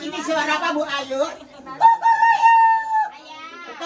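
At a children's birthday party with clowns, a person vocally imitates a rooster crowing with a drawn-out, rising-and-falling call, heard close up right after another voice asks a question.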